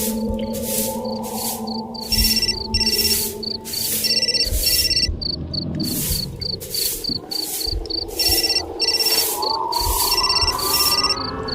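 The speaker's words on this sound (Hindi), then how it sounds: "अनीश ने अपना झाड़ू रोका तो फोन की आवाज भी रुक गई" A mobile phone ringtone chirps in a steady repeating pattern in a graveyard, with a loud, continuous layer of crickets and insects around it and no talking.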